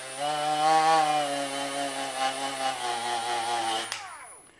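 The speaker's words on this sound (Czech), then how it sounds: "Ta regulace na té brusce neznamená, že tam máte plný knedlík, že to musí běžet na plný otáčky." A Bosch GWG 12V-50 S cordless grinder runs at speed with a steady, whining motor tone, close and loud, then its pitch drops sharply as it is switched off and spins down.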